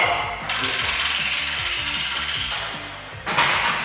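A Lift King lift runs up and down with a steady loud mechanical whir and rhythmic ratcheting clatter, which stops briefly and then starts again near the end.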